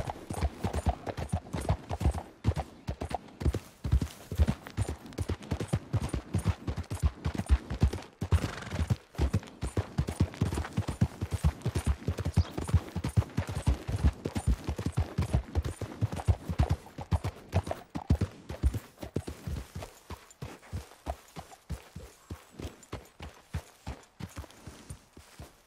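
Horse hooves in Red Dead Redemption 2 beat a steady, rapid clip-clop for the whole stretch, close and loud, slowing slightly near the end.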